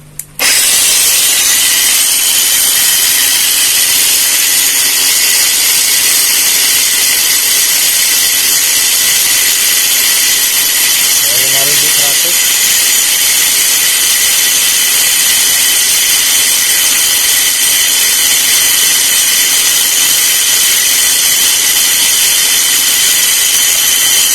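A rewound brushless angle grinder spins up at once and runs at about 5100 RPM, a loud, steady high-pitched whine that holds evenly throughout, close by.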